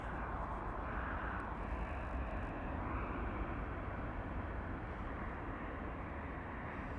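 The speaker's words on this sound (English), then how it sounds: "up next is going to be Alaskan Airlines ASA 623 with service to San Francisco. It is going to be a Boeing 737." Alaska Airlines Boeing 737 jet at Las Vegas's Harry Reid International Airport, a steady broadband engine roar that holds constant and fairly loud throughout, with no voices over it.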